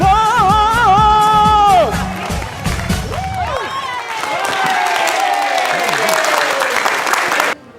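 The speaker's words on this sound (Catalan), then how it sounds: "Un aplaudiment per a Paco, que ho ha dit molt bé" Studio audience bursts into applause and cheering for a guest on a morning TV set, loud and dense at first then settling into steady clapping with whoops, ending abruptly; a voice speaks over the start.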